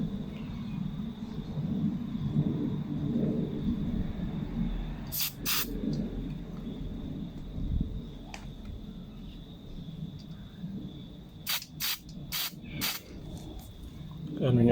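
Carpet cleaner is sprayed through the nozzle check valve of a Honda GX25/GX35 carburetor, giving a few short, sharp hissing bursts, some in quick succession, over a low background rumble.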